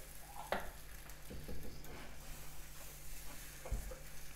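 Crêpe batter meeting a hot pan, a quiet soft sizzle and frying hiss with a few faint clicks and scrapes, no talking.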